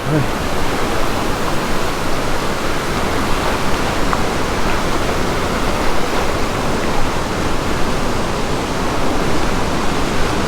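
Steady, loud roar of surf washing up a sandy beach, continuous and unbroken with no distinct individual wave breaks.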